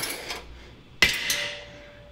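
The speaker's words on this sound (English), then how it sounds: "All it takes is a little bit of mechanical force and pop, the rotor comes right off." A single sharp metallic knock as a brake rotor is struck free on a 2016 Toyota Camry, loud and close, followed by a ringing decay, with a fainter tap just before.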